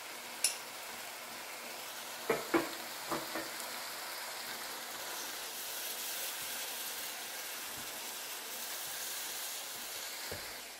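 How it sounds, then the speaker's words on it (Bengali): Katla fish sizzles with turmeric in a pan while being stir-fried, a constant soft frying hiss broken by several sharp utensil clanks and scrapes. "হলুদ দিয়ে আমি 30 সেকেন্ড মতো নেড়ে নিলাম"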